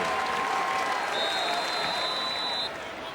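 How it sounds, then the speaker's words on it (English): Sustained applause from a college football student section at a Clemson vs Pittsburgh game, broad and crowd-wide in a large stadium, steady and somewhat distant, fading slightly near the end. "the student section down there applauding for Carter"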